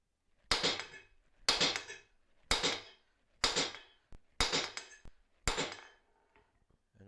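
Hot bar stock being drawn down with a hammer on an anvil at a forge, six evenly spaced ringing metallic blows, sharp and close, each decaying briefly, with no talk.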